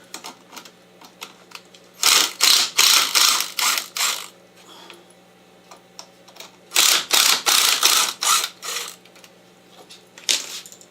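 A power screwdriver whirs in two sustained bursts of about two seconds each as screws are driven out of a wooden ball setter, loud and close, with a faint steady hum behind it.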